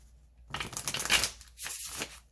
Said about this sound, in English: get a good shuffle and try that again